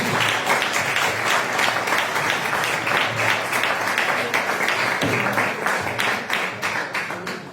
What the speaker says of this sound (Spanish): pediros un fuerte aplauso para la Rocío.